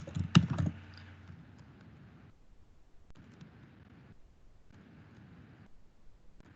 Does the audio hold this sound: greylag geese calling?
no